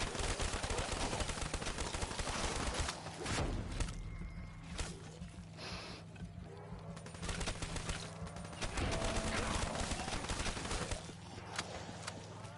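Rapid gunfire from the Weevil rifle shooting at zombies in Black Ops 6 rattles almost continuously, with short pauses between loud volleys and game effects underneath.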